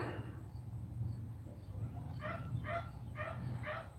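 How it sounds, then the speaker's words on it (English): A dog in an urban homestead neighborhood barks in a few quick yips and woofs, fairly distant and moderate, over a low background hum. "We got dogs barking and people mowing yards."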